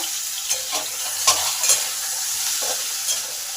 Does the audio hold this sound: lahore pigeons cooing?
no